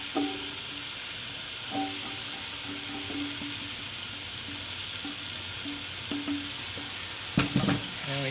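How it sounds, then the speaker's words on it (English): Paprika paste and meat for Hungarian goulash stirred in a pot, a steady close sizzle with scattered soft scrapes and knocks of the spoon, a sharper clatter near the end. "And we just give that a stir."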